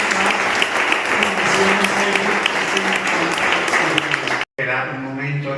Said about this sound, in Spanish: un grandísimo aplauso para ellos dos